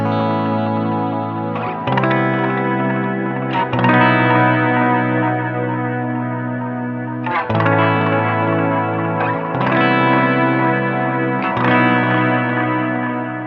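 UAFX Galaxy '74 tape echo pedal with high feedback, its repeats building toward self-oscillation: sustained, thick processed guitar tone swelling in waves, with fresh attacks roughly every two seconds feeding dense trailing echoes, loud and continuous with no talking.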